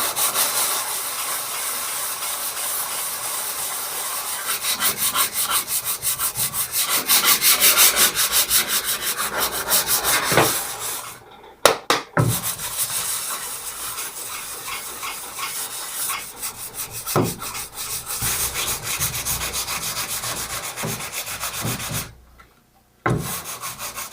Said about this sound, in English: So I have some 150 grit sandpaper. I'm not doing body work here, so I'm just going to smooth it up as best I can.